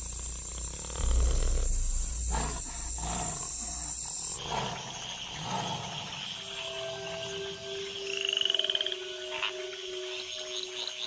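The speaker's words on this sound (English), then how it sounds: "In the wake of the rains, the tree frogs gather for bouts of communal coupling." Several frog-like calls trill and croak amid dense nighttime chorus, with steady insect whine and tonal calls rising and falling throughout, no talking.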